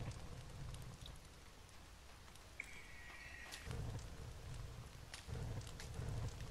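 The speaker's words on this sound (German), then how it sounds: "So, es regnet" Steady rain falls in the survival video game The Forest, a constant soft hiss of drops that swells slightly at moments, with a faint thin tone briefly overhead and no talking.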